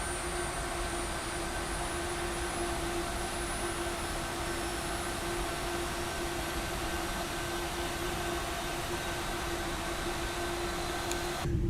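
Steady, continuous roar of airliner jet engines taxiing in Microsoft Flight Simulator, a Qantas Boeing 787-10 or A321neo, holding a constant whine and rumble throughout with no talking.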